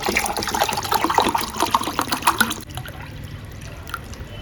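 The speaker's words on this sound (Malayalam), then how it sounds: "കുറച്ച് തണുത്ത വെള്ളം കൂടി ഒഴിച്ചിട്ടുണ്ട് കേട്ടോ" Cold water pours with a splashing, gurgling stream for a couple of seconds, then gives way to quieter drips and trickles.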